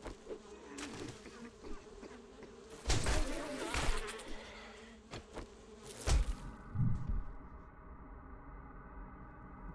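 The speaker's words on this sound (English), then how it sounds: "So there are zombie bees in the game again." Zombie bees in the video game 7 Days To Die drone with a steady insect buzz, broken by several sharp, louder bursts in the middle before the hum settles into a flatter tone.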